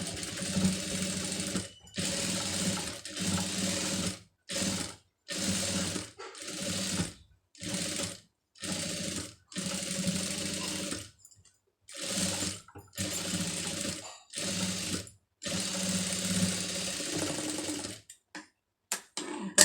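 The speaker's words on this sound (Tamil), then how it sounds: "இப்போ இதில் இன்னொரு தையல் வந்து அப்படியே போட்டுருங்க." Sewing machine stitching a layer of fabric, running in steady bursts of fast rhythmic whirring and clatter, each burst lasting a second or two between short pauses, close and clear with no voices.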